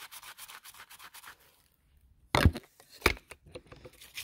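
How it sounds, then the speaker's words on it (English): A coffee filter rubs and scrapes over a painted clay Buddha figure, giving soft brushy strokes close by, a quiet gap, then two sharper, louder scuffs. "You're going to rub it on the coffee filter."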